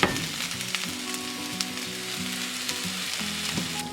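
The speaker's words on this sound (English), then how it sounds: "Add in those chopped veggies and give them a stir." Chopped vegetables and French fried potatoes sizzle in a hot pan for a tofu scramble, a close, steady frying hiss broken by soft scraping knocks as they are stirred.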